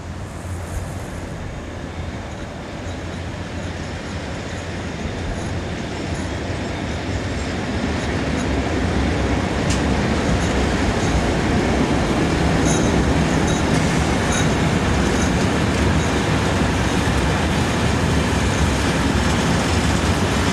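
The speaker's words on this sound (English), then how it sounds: "Number 66311 is a locally based loco, and is seen here just south of the yard" Locomotive 66311, a locally based loco, rumbles past just south of a rail yard, a steady loud roll of wheels and engine building over twenty seconds and holding close without any talk.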